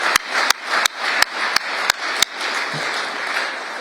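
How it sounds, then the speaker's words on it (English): Audience applause fills a Department of Justice hall during a speech by Deputy Attorney General Todd Blanche, a steady dense wash of clapping punctuated by several sharp, evenly spaced loud claps near the start before settling into a continuous roar. "That's worth clapping."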